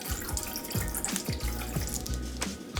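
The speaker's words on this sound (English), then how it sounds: "Top it off with some water" Water pours into a drink shaker in a steady splashing stream, a close, continuous gurgle whose pitch rises as the container fills, with no talk over it.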